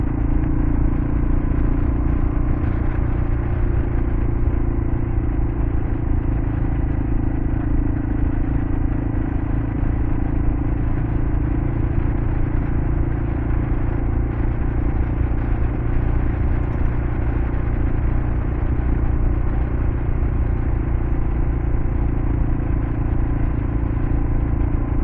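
A Kawasaki KLR650 carrying two riders off-road drones with a steady, rumbling engine note and clatter, continuous and unchanging for the whole stretch, with no voices.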